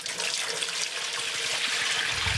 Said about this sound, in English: I'm just gonna make it easy by adding 10 cups of water